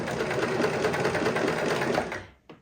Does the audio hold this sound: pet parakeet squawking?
no